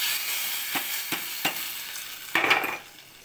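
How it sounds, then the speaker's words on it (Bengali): Chilli and curry leaves crackle into hot oil already holding mustard seeds and cumin for a vegetarian khichuri, a steady sizzle punctuated by a few sharp spoon taps and a louder burst of spattering near the end. "লঙ্কাটা দেবো আর কটা কারিয়া পাতা দিয়ে দেবো। ফোড়নটা ওতে দিয়ে দেবো"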